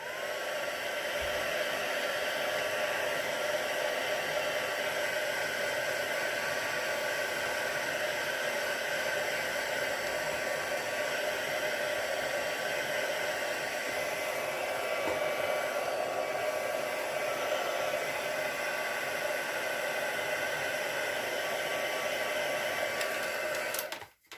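A heat tool for drying embossing powder on a handmade card blows a steady, close, loud hiss and roar that runs unbroken the whole time, then cuts off at the end.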